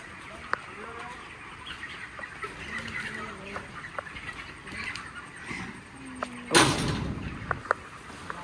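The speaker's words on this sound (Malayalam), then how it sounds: "പിന്നെയും കോഴി." Chickens cluck intermittently at a farmstay in Kannur, soft and somewhat distant against a rustling outdoor background, with one sudden loud knock-like burst near the end.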